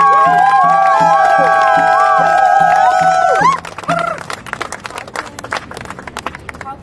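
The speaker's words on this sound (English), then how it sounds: "Let's get another round of applause for Isa" An audience at a press conference applauds and cheers, a dense burst of clapping and crowd noise mixed with loud sustained tones early on, then thinning into scattered claps and voices.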